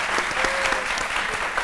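A studio audience on a midday TV show claps loudly, a brief, dense and even burst of applause lasting under two seconds, with a faint tonal sound running through it.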